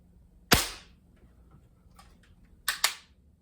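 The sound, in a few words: Crosman 760 or Daisy 880 air gun firing pellet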